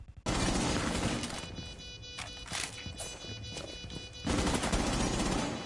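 Gunfire in the Rainbow Six Siege video game, loud dense bursts of rapid shots and impacts that sound close and continuous, then briefly ease before another heavy burst near the end.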